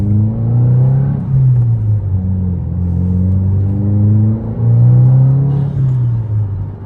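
A 2022 Subaru WRX with a Perrin charge pipe and ETS cold air intake rumbles and revs from inside the cabin, its boxer engine rising and falling through several smooth pulls, steady and fairly loud with no talking.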